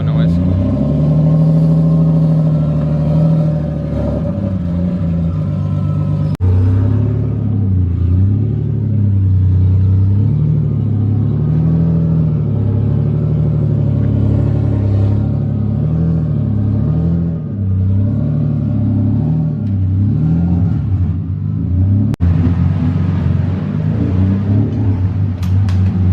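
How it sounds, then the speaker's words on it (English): Single-turbo Nissan 370Z with an aggressive cam tune, its engine revving up and down in repeated rising and falling sweeps, loud and close, with turbo noise and brief spoken remarks over it. "All turbo noise."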